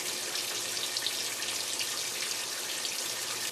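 Steady rushing water fills a General Electric washing machine, a continuous bright hiss like a running tap, close and even throughout with no voices.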